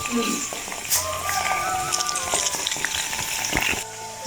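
Okra fries on a stove with a dense, continuous sizzle, close and loud, while people talk and other kitchen noises layer underneath.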